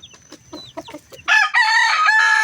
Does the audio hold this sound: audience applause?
no